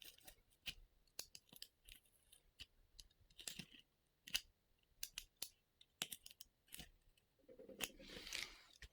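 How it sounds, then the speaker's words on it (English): Scissors snipping out tiny paper rectangles for a handmade diamond painting portfolio, a quiet, irregular series of short crisp cuts with brief pauses, ending in a slightly longer rustle of paper. "I'm going to be cutting out just the tiniest of rectangles"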